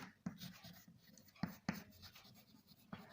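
Marker or chalk writing on a board while an income-tax maths problem is worked out: quiet scratching strokes with a few sharper taps, close but faint, in an otherwise quiet room.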